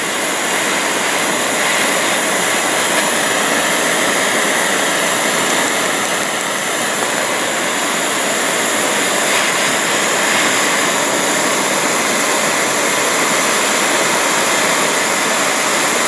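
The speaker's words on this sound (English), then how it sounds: "Just crank up your torch." Torch flame roaring steadily while heating metal, a loud, continuous broadband rush without a break, close to the listener and with no voices.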